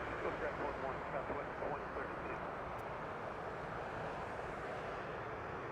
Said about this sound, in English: And this is gonna be a Boeing 737 MAX 8.